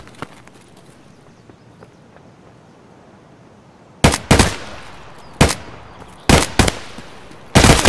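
Gunfire in the shooter game Escape From Tarkov: after a quiet stretch, loud sharp shots crack out in close bursts and single reports, several clustered groups in a row.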